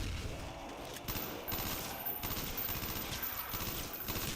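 AUG rifle fire from a first-person shooter video game, heard as continuous rattling bursts of gunfire. It stays fairly faint and low in the mix throughout.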